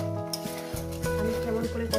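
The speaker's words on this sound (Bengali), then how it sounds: "3 মিনিট হয়েছে, আরও 2 মিনিট কষিয়ে নেবো।" Fish curry masala for a Bengali macher jhal being stir-fried in a pan: soft scraping stirs and a light sizzle sit beneath steady background music.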